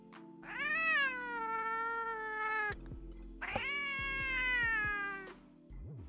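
Maisie the cat lets out two long, drawn-out meows close by, each rising then sliding down, begging for attention with a short pause between them.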